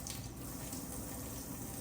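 Tap water pouring and splashing as soda cans are rinsed at a sink, a soft, steady close-up rush that lasts for the whole short moment.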